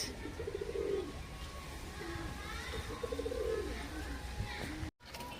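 Soft coos from Madrasi flying pigeons come in short warbling bursts, a couple of calls separated by pauses, over quiet background noise with brief rustles.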